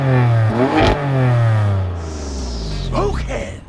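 BMW M4 Competition exhaust revving from a standstill, a loud rising then falling engine note with a sharp blip near the middle, followed by a quieter settling idle.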